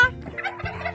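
A turkey gobbles close by, a rapid warbling burst repeated twice within a second, loud and clear with little else around it.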